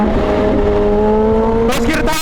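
A Kawasaki Z H2 supercharged motorcycle accelerating hard in first gear, its engine note climbing loud and close as revs rise, then a brief burst of broadband wind and intake rush near the end.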